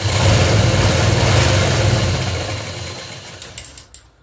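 A sewing machine stitches a hook strip for a blouse, running in a loud, continuous motorized whir up close before slowing and stopping, followed by a few light clicks.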